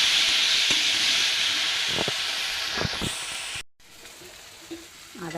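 Coriander and cumin paste fries in a pan with a loud hissing sizzle, broken by a few stirring scrapes. The sizzle drops out sharply near the end and then continues quieter.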